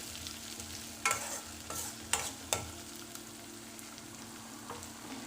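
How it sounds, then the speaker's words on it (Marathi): Cabbage sabzi being stir-fried in a pan, with a low steady sizzle under a few sharp scraping strokes of the spatula spaced over several seconds, close and alone. "याला छान परतून घ्यायचं।"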